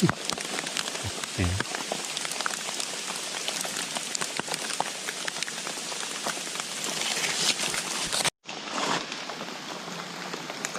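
Sustained rain in hilly woodland during mushroom picking, a dense near hiss of drops striking leaves and ground that cuts out briefly near the end before resuming.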